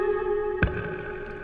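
A guitar sample with slap percussion left unfiltered: a sustained, effects-laden guitar tone with a single sharp percussive slap hit in the middle, moderately loud, with no voices.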